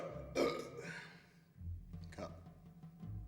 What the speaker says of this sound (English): Is that worse than my burps?